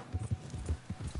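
An Arabian horse in Red Dead Redemption 2 walks with soft, close hoof clip-clops in an uneven rhythm, about a dozen muffled steps across a brief moment.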